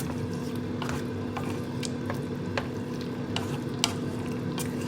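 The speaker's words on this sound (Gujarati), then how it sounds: "હવે પાછું બધું મિક્સ કરી દઈશું" Gobi Manchurian mixture thickened with a slurry is stirred in a pan, giving a soft bubbling sizzle with repeated scraping and squelching strokes up close and a steady background hum.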